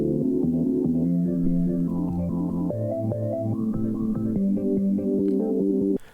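A chopped music sample from a song chorus, filtered down to a muffled, bass-heavy tone with effects added, loops as a rhythmic sequence of chords for about six seconds before cutting off abruptly.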